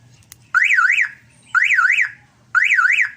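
A van's car alarm sounds with three loud, close bursts of a rising-and-falling warbling siren, each about half a second long and separated by short gaps, with no talking.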